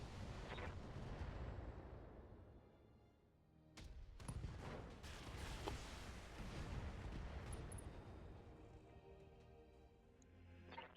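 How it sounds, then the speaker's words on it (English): Mech weapon discharge in the video game BattleTech, a deep rumbling blast that fades, then a sudden loud burst of cannon fire followed by heavy booming reverberation and a sharp final crack. "Discharging weapon."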